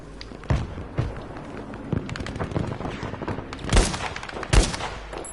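Gunfire in Battlefield V conquest: a string of sharp shots cracking out at irregular intervals, two louder blasts near the end, over a busy background of footsteps and battle noise.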